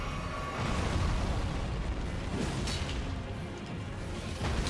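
Heavy explosive blast from an enemy's stomp attack in Elden Ring: Shadow of the Erdtree, a dense, rumbling roar that fills the whole stretch loudly and continuously without fading.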